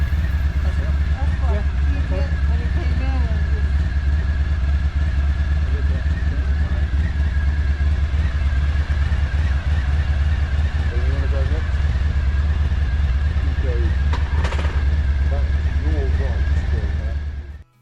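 A Honda ST1100 or BMW R1250RT touring motorcycle idles and eases out of a parking spot over a speed bump in Spain, a steady low engine rumble throughout with faint voices in the background before cutting off.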